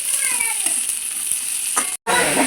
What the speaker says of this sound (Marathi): आता आपण त्यामध्ये मटकी टाकून घेऊया नंतर वरून चिरून घेतलेला फ्लावर टाकून घेऊयात आणि सुंदर असा हलवून घेऊयात